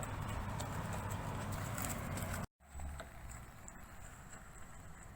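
A horse's hooves clip-clop on a riding-school arena during a beginner riding lesson, a faint, steady patter under constant outdoor noise, briefly cut by a dropout, with no talking.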